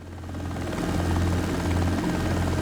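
A simulated helicopter taxiing in the X-Plane 12 flight simulator gives a loud, steady rotor and engine drone. The low throb runs unbroken for the whole stretch, with no voices.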